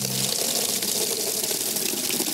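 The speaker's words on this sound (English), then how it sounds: "As you can see, the flow continued to flow even after he released the trigger" Liquid gushes steadily from a fuel nozzle in a continuous, even rushing flow that holds at one level from start to finish.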